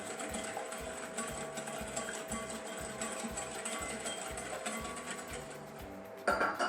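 Egg yolk mix whisked in a bowl while a vinegar and seasoning mix is slowly added for eggs Benedict, giving a steady rapid rhythmic clatter of whisk against bowl that runs throughout, close and fairly loud.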